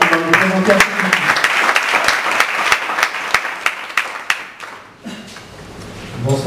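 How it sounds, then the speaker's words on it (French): At a tech meetup on startup financing, the audience applauds an incoming presenter, a few seconds of brisk clapping that thins and tapers, with a voice speaking at the start and again at the end. "Alors vous pouvez applaudir Tamer qui va nous présenter un peu."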